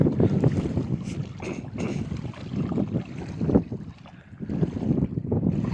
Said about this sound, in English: The breeze is kind of chilly.